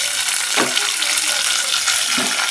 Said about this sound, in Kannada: ಟೊಮೆಟೊ ಮತ್ತು ಮೆಣಸಿನ್ಕಾಯಿ ಹೆಚ್ಚಿಟ್ಕೊಂಡಿದ್ದೆ, ಅದನ್ನು ಹಾಕ್ಕೊಳ್ತೇನೆ.